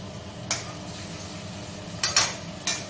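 Potato curry with tomato cooks in a pan while a utensil stirs it, producing a few sharp scrapes and clinks against a quiet, low sizzle.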